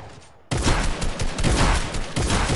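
Shotgun gunfire in an online video game, a loud dense burst of overlapping blasts starting abruptly after a brief quiet lead-in and continuing as sustained, close battle noise.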